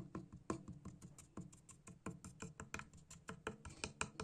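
Knuckle taps on the wooden body of a personal guitar under construction, rapid and uneven, some spots sounding hollow and shell-like, others solid, close and fairly quiet with no talk.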